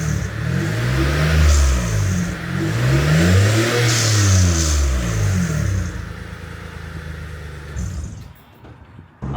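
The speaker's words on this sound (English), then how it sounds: "So with the 3SX pipe installed, let's see how it sounds at the back of the car." A Dodge Stealth/3000GT engine with a 3SX front pipe exhaust revs up and down in repeated swells, heard loud from the back of the car, then drops toward idle near the end.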